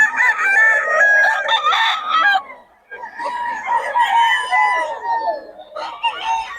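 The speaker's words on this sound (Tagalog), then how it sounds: "Mga manok ni Boss Ray." Boss Ray's chickens in Bocaue, Pangasinan crow and cluck loudly and close by, with two long crows broken by a short pause and a third starting at the end.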